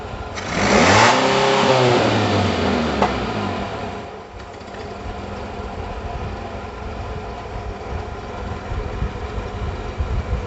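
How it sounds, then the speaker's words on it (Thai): A Mazda 1300 engine with a freshly adjusted carburetor revs hard, pitch sweeping up and down in a loud burst, then settling into a steady, rougher idle rumble that continues to the end. "เราเร่งให้สุด แล้วก็มาปรับ อากาศอีกครั้งหนึ่ง นะสังเกตว่าเครื่องจะเร่งขึ้น"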